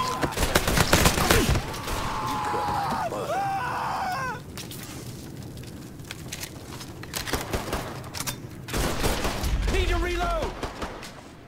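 Mafia III gunfire, rapid bursts of shots up front that fall into scattered cracks and return as another burst near the end, mixed with shouting voices and loud game effects.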